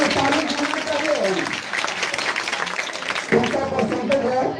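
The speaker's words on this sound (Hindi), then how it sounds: "ताली में बोले, ताली चाहिए।" An audience at an award ceremony at a coaching centre applauds, with dense, steady clapping throughout and a fresh burst of claps toward the end, over a busy room.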